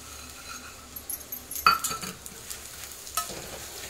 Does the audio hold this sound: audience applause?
no